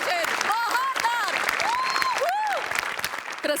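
Applause from a comedy show audience rises as a continuous clatter of clapping, heard under a loud, sing-song voice from the stage that talks over it the whole time.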